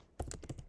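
Keys clatter on a computer keyboard while HTML code is entered, a brief burst of several close, quick taps after a quiet moment.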